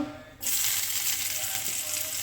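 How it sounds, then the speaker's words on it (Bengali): Chopped onions hit hot oil on a medium flame for a fish curry, bursting into a loud, steady sizzle of frying after a brief quiet start, continuing without pause. "আমার এবার আমি পেঁয়াজ কুচি দিয়ে দেবো"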